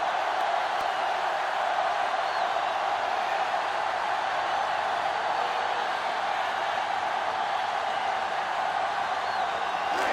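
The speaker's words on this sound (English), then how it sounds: "This sellout crowd is really making a difference now as these guys can't even call the play" Steady, dense roar of a sellout stadium crowd in a 1950s college football video game, Oklahoma at Ohio State, sustained and loud throughout with no break.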